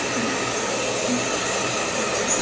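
A hair dryer blows on someone's hair with a steady, close whooshing whir that holds an even level throughout, no talking.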